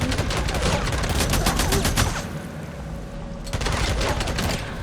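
Gunfire aimed at the Breaker boss in Days Gone on PS5: dense, rapid bursts of shots, loud and close, with a short lull in the middle before firing resumes.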